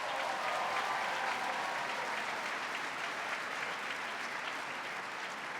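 An audience applauds at Governor Cuomo's 2020 State of the State address, a dense, sustained wash of many hands clapping in a large hall, steady throughout without pause.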